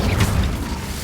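The Incendio fire spell in Hogwarts Legacy gives a brief, loud whooshing burst of flame with a booming thump, close and dense, over about a second.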